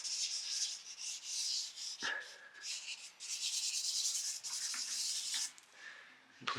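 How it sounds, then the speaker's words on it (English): Putty rubber scrubbing across a charcoal drawing of trees and hedgerows on paper, a close, steady run of soft brisk rubbing strokes with short pauses, alone without talk. "Putty rubber again."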